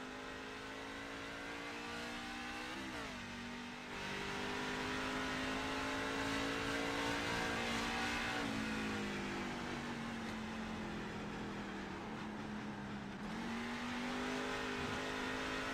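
Onboard racing truck engine in a truck series racing video game at a Milwaukee race, a steady droning roar that rises and dips in pitch through gear changes, close and continuous, with no talk.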